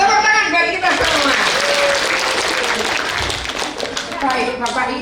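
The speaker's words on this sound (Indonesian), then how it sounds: "Tepuk tangan bagi kita semua." A seminar audience applauds in a dense, steady round of clapping that fills the room, with a voice talking over it and the clapping easing slightly toward the end.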